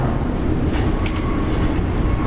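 A people-mover train at Denver Airport's concourses rumbles steadily and close, with a couple of brief high squeals over the constant low roar and no voices.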